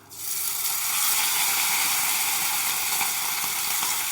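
Bottle gourd peel fries in a pan with a little peanut, giving a loud, steady, close sizzle that rises within the first moments and holds evenly throughout.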